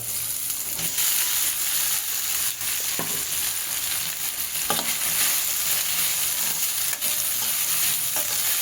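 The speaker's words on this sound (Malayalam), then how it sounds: "നല്ലപോലെ മിക്സ് ചെയ്യണേ" Flattened rice is stirred and mixed in a hot pan, a continuous hissy sizzle with occasional faint knocks of the spoon against the pan.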